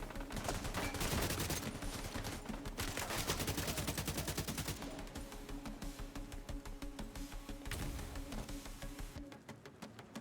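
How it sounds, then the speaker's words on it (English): Rapid gunfire in Tom Clancy's The Division 2, Battle for Brooklyn DLC, with dense automatic bursts and single shots crackling almost without pause, loud and close throughout, easing off only in the final second. "there's still someone shooting at me"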